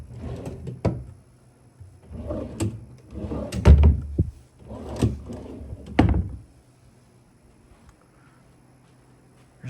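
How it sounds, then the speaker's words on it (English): Drawers in a hotel suite room being opened and closed, giving several close, separate wooden slides and thunks in an irregular rhythm that stop before a quiet stretch at the end. "Drawers."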